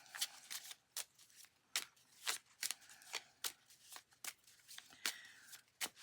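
Lenormand cards are shuffled close up in a quiet room, making a quick series of crisp riffling snaps and flutters at an uneven rhythm, about a dozen bursts over six seconds, with no talking.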